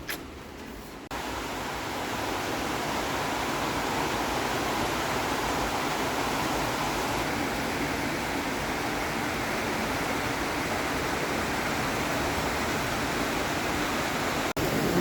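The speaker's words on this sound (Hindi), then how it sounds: "ये देखो आ गई बारिश वापस से।" Steady rain pours down outdoors on a Dussehra afternoon, a broad, even hiss that starts abruptly after a brief quiet moment and continues unbroken and fairly close.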